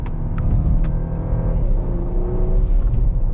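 A 2022 Porsche Macan S accelerates hard in Sport Plus mode, heard from inside as a loud, continuous low engine rumble and rising whir with a few faint clicks.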